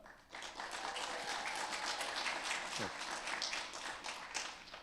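An audience applauds award finalists at an awards ceremony, a sustained wash of many hands clapping, fairly distant and quiet, holding steadily for several seconds.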